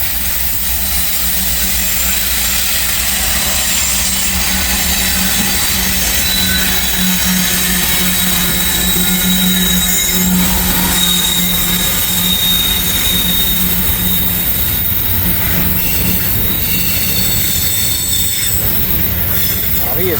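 Freight train wheels squeal loudly and persistently as the train descends a steep incline, shrill tones wavering over a deep rolling rumble of cars for the entire stretch.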